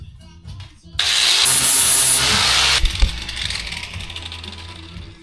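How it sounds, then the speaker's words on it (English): A flap disc grinding down a dented Jeep body panel around a rivet nut makes a loud, harsh abrasive whine for about two seconds, then the tool winds down with fainter scraping afterward. "A Flapdisk. Slowly massage this down"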